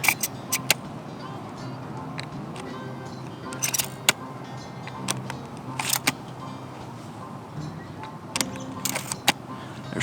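Remington 2.5-inch number 6 .410 shells are pushed one at a time through the side gate of a Henry Axe, giving several sharp metallic clicks over a low background, with someone talking briefly.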